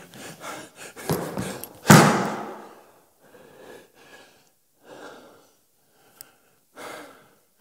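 A stage performer pants heavily after exertion: a loud burst of ragged, gasping breaths, then quieter spaced huffs and exhales tapering off, close and alone.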